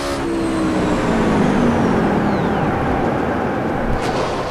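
Race car cornering in a racing video game, a loud steady engine drone with falling pitch sweeps as it brakes and turns, continuous and unbroken.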